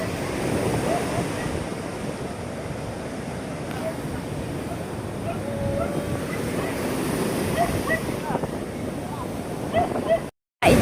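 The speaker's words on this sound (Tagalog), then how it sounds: "Sa lalaki ng alon, pakalkal pa ang pagkabaksak ng alon." Large ocean waves crash heavily onto the shore, steady and loud with wind noise, near a fishing boat with nets pulled up from the surf; a brief dropout near the end.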